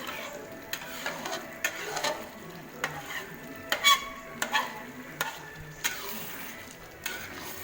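Shredded chicken rendang hisses in a pan while being stirred, with repeated scraping and knocking of the utensil against the pan over a soft sizzle, close and without talk.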